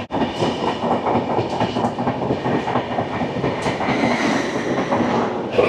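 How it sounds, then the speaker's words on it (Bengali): The 22897 Kandari Express from Howrah to Digha runs on past Santragachi Junction toward Uluberia, heard from on board as a steady rumble with quick, rhythmic wheel clatter over rail joints. "সাঁতরাগাছি জংশন ছাড়িয়ে আমাদের ট্রেন ছুটে চলেছে উলুবেড়িয়ার দিকে"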